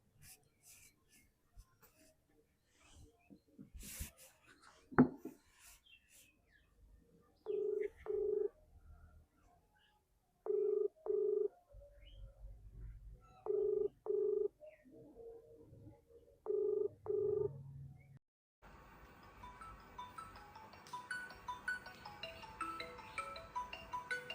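A phone ringback tone repeats in paired buzzes four times with quiet gaps between, goes unanswered, and then a busier, louder sound takes over.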